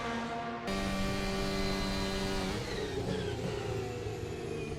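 Formula 1 car engine in a racing video game, a loud, sustained high-pitched whine that holds steady then shifts pitch as gears change, continuous throughout.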